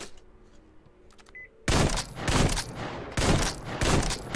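Semi-automatic Valve rifle fired in Metro Exodus, a quiet lead-in followed by four loud, evenly spaced shots with short echoing tails.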